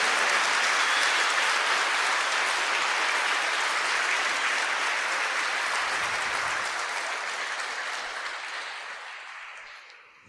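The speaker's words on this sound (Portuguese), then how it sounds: "Pode dar uma salva de palmas para Ele?" Congregation at a Catholic Mass in Portuguese giving a loud, sustained round of applause, dense clapping that holds steady for several seconds, then thins and fades out at the end.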